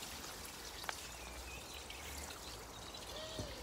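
Water pours steadily down a garden pond cascade built with a liner, a continuous faint outdoor trickle and splash with a few brief bird chirps over it.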